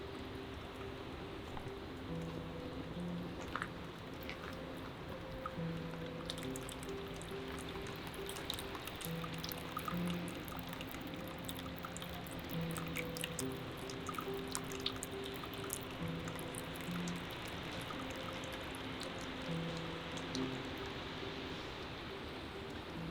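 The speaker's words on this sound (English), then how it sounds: "so we're coming to the pond." Water trickles and drips softly and continuously at a pond in a Japanese garden at Kingston Lacy in winter, a faint, even outdoor wash with no talking.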